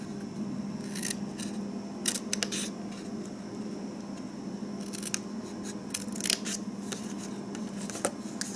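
Scissors cutting material for a Valentine treat holder, several clusters of crisp, close snips in irregular bursts over a faint steady hum, with no talk.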